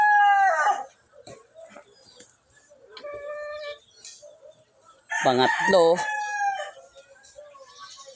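A gamecock in conditioning crows close by, a short call at the start and a longer loud crow later, while someone speaks briefly between them and softer clucking fills the gaps.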